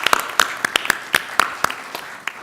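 Sparse, distinct hand claps from a small audience at a school board candidate forum, a handful of sharp separate claps in irregular rhythm, fairly close and unhurried, with no voices over them.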